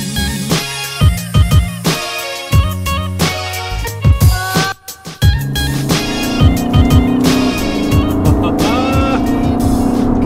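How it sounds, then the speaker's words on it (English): A 2018 Aston Martin Vantage with sports exhaust revs hard through repeated gear changes, rising whines cut by short pauses, then settles into a steady loud drone with tire noise. "I'm currently driving out of Aston Martin headquarters in a new Aston Martin Vantage."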